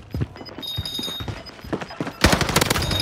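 Type 100 submachine gun fire in Call of Duty Vanguard Warzone, with scattered loud close shots and thuds that give way to a dense rapid burst near the end.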